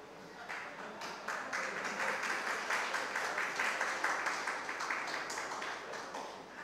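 Crowd applause at a Tamil pattimandram debate speech, a steady dense patter of many hands clapping throughout, fairly loud and continuous without talk.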